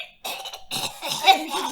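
Cough sounds from a bird character in the Hatoful Boyfriend video game, a short burst of close, raspy coughs lasting under two seconds.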